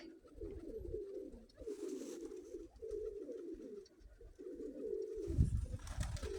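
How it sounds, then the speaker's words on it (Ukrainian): Pigeons coo in low, throaty, repeated phrases close by, with soft rustling and a brief thump near the end. "По цих старконовських голубах вийшла в мене ця голубка."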